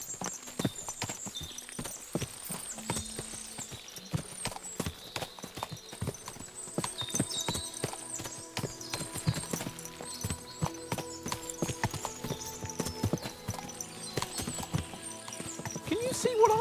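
Many horses' hooves clip-clop in a busy, irregular rhythm on a hard surface in the video game Kingdom Come: Deliverance II, with occasional whinnies and voices talking over the procession.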